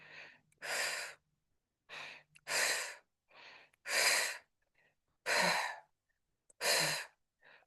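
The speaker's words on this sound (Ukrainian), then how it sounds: "Дихаємо, дихаємо." Slow, deep breaths in a quiet room: several long, airy inhales and exhales alternating at an even, unhurried pace, close to the microphone.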